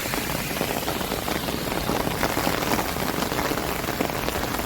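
Steady, loud rain falling and pattering on surfaces in Singapore, an even dense hiss throughout with no speech.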